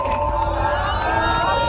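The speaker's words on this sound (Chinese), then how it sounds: "来，我要听到学弟学妹的掌声" Students cheer and clap at a welcome ceremony for new arrivals at a university's Matsu campus, a dense, steady crowd roar with shouting voices throughout.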